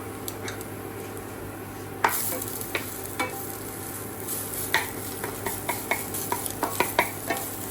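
Carrots stir-fried in a pan for vegetable noodles: a steady soft sizzle runs throughout, broken by sharp scraping knocks of a spatula against the pan that grow quicker toward the end.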